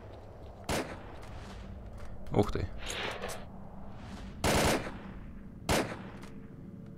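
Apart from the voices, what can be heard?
gunfire in S.T.A.L.K.E.R. video game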